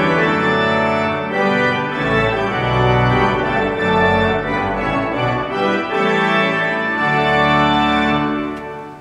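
Full great chorus of a William Hill pipe organ with the tromba reed stop drawn, a loud sustained chordal passage filling the church for about nine seconds, the tone slightly unsteady from wind supply problems.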